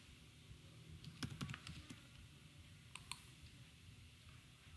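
Code being typed on a computer keyboard: a few close, crisp keystroke clusters over a steady low background hum, with quiet stretches between the bursts.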